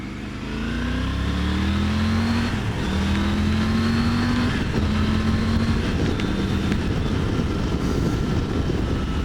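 A Triumph Tiger 900 Rally Pro triple-cylinder motorcycle engine under way, a steady loud drone with smooth rising pitch through gear changes, its note climbing and dropping a few times over constant wind roar.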